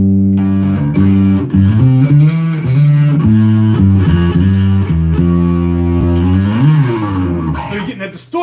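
A heavily distorted bass guitar played through an MXR M80 distortion pedal plays sustained, growling notes and slides, loud and close, with a gritty buzzing overdrive and no talking.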